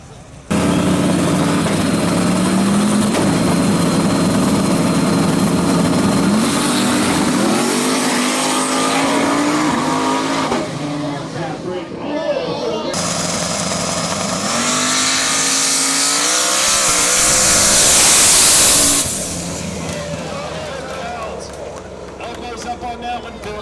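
A 1995 Mustang drag racing at a sketchy hillside drag strip, engine roaring loud and near as it launches and revs through gear changes, then passing away, with an announcer talking over it.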